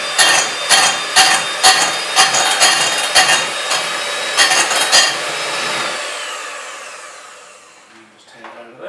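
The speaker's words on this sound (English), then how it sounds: "So I'm just going to give that another whisk up." Egg whites and granulated sugar are whisked into meringue for baked apples, a busy electric whisking whir with repeated sharp taps against the bowl, loud and close, easing off toward the end.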